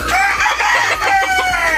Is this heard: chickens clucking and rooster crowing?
yes